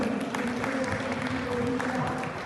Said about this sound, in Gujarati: જોરદાર તાળીઓથી વધાવી લઈશું।